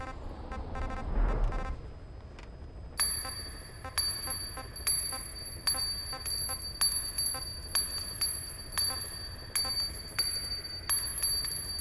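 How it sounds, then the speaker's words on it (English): A bell in Metal Gear Solid V: The Phantom Pain bounces along the ground, giving a long run of bright metallic rings and clinks, about a dozen strikes in an irregular rhythm, loud and close with no talk over it. "Dang, how bouncy is that bell?"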